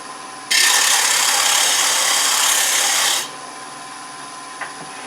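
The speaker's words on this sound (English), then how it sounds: "I'm going to sand with this sanding block just to get it trued up well for me" A sanding block presses against a turned wooden chip dip and nut bowl, giving a loud, steady, close hiss that lasts under three seconds. It stops abruptly, leaving a low background hum and one small tap.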